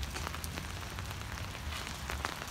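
Rain falls steadily on an outdoor wholesale gem and mineral show with tents in Franklin, North Carolina, in May, a dense, even patter with scattered sharper drops, close and continuous, with no talking.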